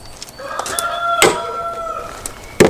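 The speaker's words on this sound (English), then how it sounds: "Rooster!" A rooster crows once, loud and close, with a drawn-out call and sharp bursts at its start and end.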